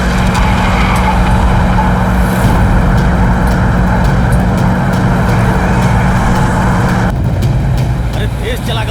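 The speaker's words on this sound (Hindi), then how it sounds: "गाड़ी तेज भगाओ।" Car speeding along a road with a loud, continuous engine roar and road noise up close, voices talking over it.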